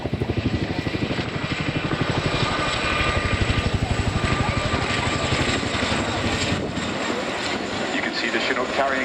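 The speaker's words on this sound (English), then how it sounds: "into the sky for the 2024 Chinook roll demonstration" A Chinook twin-rotor helicopter flies a roll demonstration at the RAF Cosford airshow, its rapid rhythmic rotor thumping loud and steady with a heavy engine roar, while a commentator's voice talks over it.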